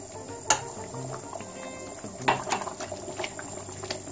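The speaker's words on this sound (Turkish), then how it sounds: "Şöyle yarım su bardağı kadar sıvı yağ ekliyorum." Faint liquid sounds with light sizzling and bubbling, a few soft splashes as half a glass of cooking oil is poured into a pan of simmering tomato sauce.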